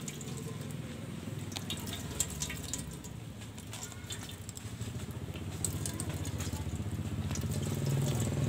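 Grated cassava is squeezed hard inside a cloth napkin, producing a wet, crackling squelch and steady trickling as liquid runs out, close and continuous and growing a little louder, with no voices.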